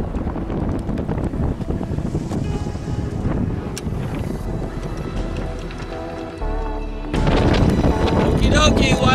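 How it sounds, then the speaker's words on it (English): A sailboat slipping off its anchor under sail, with steady wind buffeting and water rushing around the hull throughout, growing louder near the end. "WildChild sailing off anchor now"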